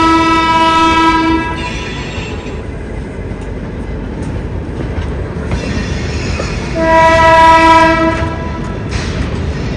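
The Howrah Amritsar Mail pulls out of Lucknow station with a loud, sustained horn blast, then a second blast, over the steady rumble and clatter of the moving train.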